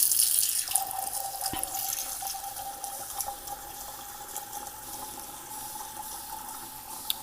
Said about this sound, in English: And then I like to just add warm water.